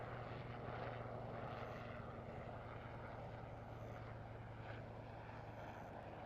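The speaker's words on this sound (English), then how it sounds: "The noise you're hearing is the helicopter just passing overhead." A helicopter passes overhead at a rocket launch site as a steady, low rotor and engine drone that stays faint and distant throughout.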